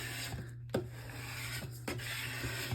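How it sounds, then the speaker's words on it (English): Paper being burnished by hand while assembling a mini album, soft repeated rubbing strokes with a few sharper scuffs, close and quiet over a steady low hum. "And I'll give it a good burnish on the other side."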